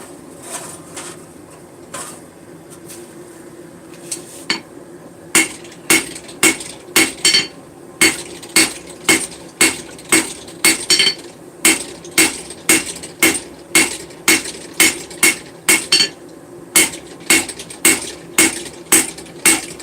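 Hammer strikes on a cast iron anvil without a hardened steel plate, sparse at first, then a steady run of sharp, ringing metallic blows with faint rattling between them.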